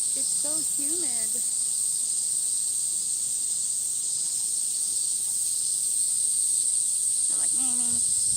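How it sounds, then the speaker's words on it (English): A dense, piercing chorus of cicadas fills a humid Tokyo park in a continuous loud buzz, while a voice speaks briefly at the start and again near the end beneath the drone. "cicadas say, mean, mean, mean, mean, mean."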